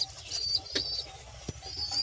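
White pigeons and their chicks in a coop make soft cooing and chirping calls, faint and close, with a brief flutter and a soft thump.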